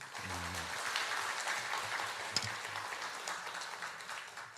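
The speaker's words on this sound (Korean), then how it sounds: "우리 박수 한번 할까요?" Church congregation applauding together after a moving performance, a steady wash of many hands clapping at moderate volume throughout.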